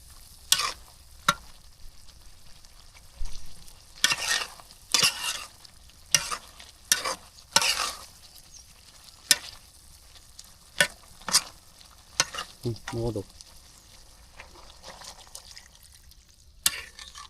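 Fish curry with green banana is stirred over a clay stove in a village kitchen, the spoon scraping the pot in repeated uneven strokes over a soft, continuous sizzle of frying.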